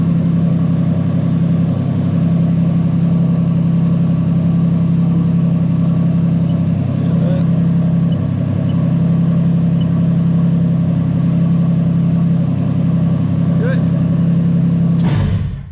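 A Toyota Altezza RS200 with a 1JZ-GTE VVT-i engine and J160 gearbox idles close and loud, a steady low drone that holds evenly throughout, then cuts off sharply at the end.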